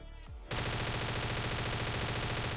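Automatic gunfire in the ScarFall 2.0 shooter game, a sustained rapid burst of close, loud shots that starts abruptly after a brief quiet lead-in and keeps going unbroken.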